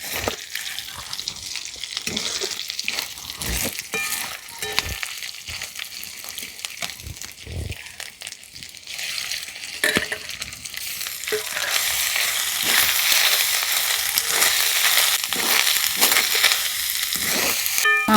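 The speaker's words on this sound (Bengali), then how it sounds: "নারকেলটাও মশলার সঙ্গে দিয়ে আমি মোটামুটি 2-3 মিনিট মতন কষিয়ে নিয়েছি" Coconut paste frying with spices and ginger in a pan, a long close sizzle with repeated spatula scrapes and knocks that grows louder and denser toward the end, no voices.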